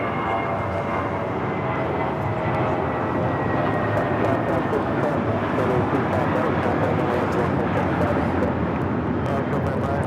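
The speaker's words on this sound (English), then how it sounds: "This is Spirit Airlines 604 taking off to Newark on the A320." Spirit Airlines A320 jet taking off for Newark from Los Angeles airport, a continuous moderate engine rumble and roar heard from a distance, with voices chatting over it.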